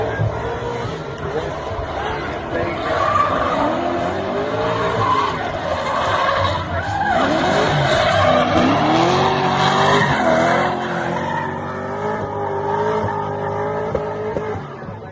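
Dirt-track race cars roar downhill under full power, engines loud and continuous with wavering pitch and tire scrub throughout, close and steady for the whole stretch.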